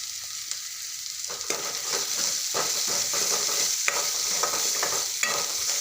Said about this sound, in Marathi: बारीक चिरलेला टोमॅटो घालते